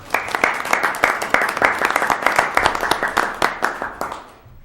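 A room full of people at a Hudson city council meeting breaks into steady, dense applause, loud and close, for several seconds before tapering off at the end.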